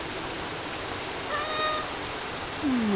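Cats meow in the video game Stray, a brief high meow midway and another near the end, heard over a steady rain-like wash of ambient noise.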